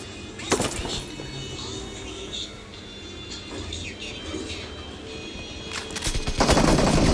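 Rapid gunfire bursts from a team-based video game shooter crackle through a busy mix, with a loud burst at the start and denser firing near the end, under voices calling out during the match.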